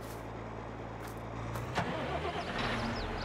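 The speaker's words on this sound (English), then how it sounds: "It's a tractor." A tractor engine runs steadily at close range, a low continuous rumble that grows slightly louder partway through, with no talking over it.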